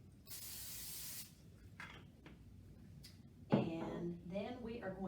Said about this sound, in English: We're going to use our spray so it doesn't stick.